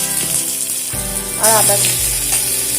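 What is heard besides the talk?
chopped garlic and ginger frying in mustard oil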